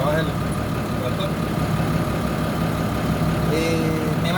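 A tractor engine runs steadily at low revs, settling down to idle with a continuous low rumble close by; a brief rising whine appears near the end.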